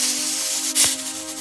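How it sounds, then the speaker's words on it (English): A pressure cooker on an electric stove hissing loudly as it builds pressure, a continuous close steam spray with a brief sharper burst midway over a low steady hum. "the pressure cooker, or PC building pressure."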